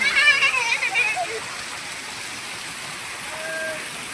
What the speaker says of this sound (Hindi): इतनी बारिश हो रही है देखिए।